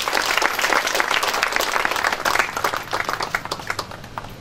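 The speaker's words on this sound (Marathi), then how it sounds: "एकदा जोरदार टाळ्या होऊ द्या।" Loud applause from a crowd at an outdoor gathering, dense clapping that is strong at first and thins out toward the end.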